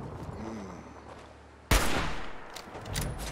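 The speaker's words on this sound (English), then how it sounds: "I pulled the trigger on the wrong man." A single sharp rifle gunshot from Fallout cracks loud and close after a quiet stretch, followed by fainter shots and rumble.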